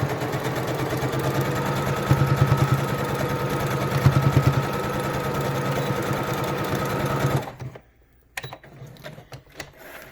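A sewing machine top stitches the pleats of a face mask in one loud, close, continuous run, briefly revving twice, then stops abruptly and leaves only a few scattered clicks.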